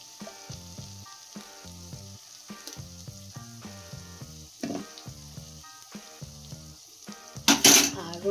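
Ginger paste frying with tomatoes in a pan, a steady sizzle broken by scraping stirs and a loud clatter near the end.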